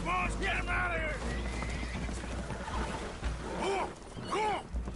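Spooked horses aboard a leaking boat in the video game Red Dead Redemption 2 give several loud, wavering neighs and whinnies, with clopping hooves and sloshing water beneath and a voice speaking over them.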